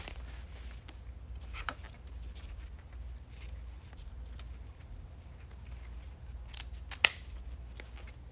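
Scissors snip deco mesh for a Valentine wreath, a few crisp cuts spread across a quiet stretch, with a sharper clip near the end, close and fairly faint.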